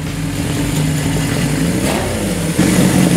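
A motorcycle engine hums and revs up on a ride along a Nova Scotia road, a loud close drone that rises in pitch and swells near the end, with wind noise and no talk.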